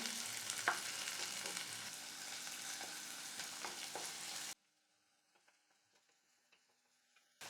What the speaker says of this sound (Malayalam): ഇതെല്ലാം കൂടെ ഒന്ന് ഇളക്കി കൊടുക്കാം